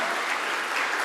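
Audience applause for a youth worship band at a church service, a dense, steady wash of many hands clapping at close range throughout, with no voices standing out.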